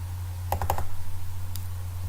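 Computer mouse double-clicks in a rapid pair of sharp taps, followed by a few softer clicks and one later single click, close and crisp over a steady low electrical hum, no talking.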